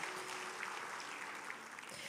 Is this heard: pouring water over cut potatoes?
no